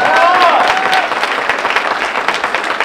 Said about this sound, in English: Let's give a round of applause for Paul.